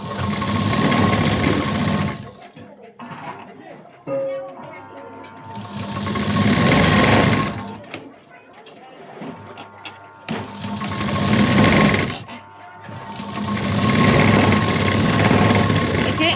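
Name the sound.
sewing machine stitching a blouse seam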